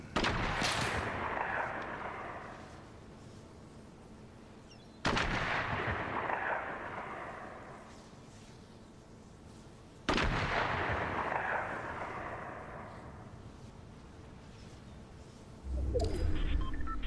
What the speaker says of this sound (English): I don't know what he's shooting at